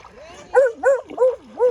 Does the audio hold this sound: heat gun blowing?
no